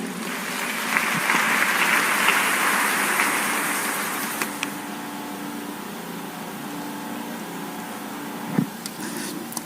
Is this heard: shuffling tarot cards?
no